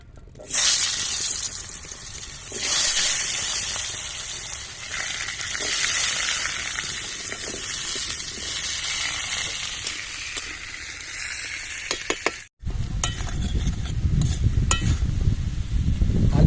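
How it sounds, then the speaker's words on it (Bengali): Potatoes frying in oil in a pan, a steady loud sizzle with stirring scrapes that runs the whole way, broken by one brief silent gap before the hiss returns more strongly. "আমি আলুটা হালকা ভেজে নেবো"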